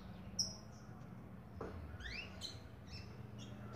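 A small bird sings outdoors near a clothesline and red-flowered plant, with a series of faint, quick, high chirps and rising whistles scattered over steady low ambient hum, no talking.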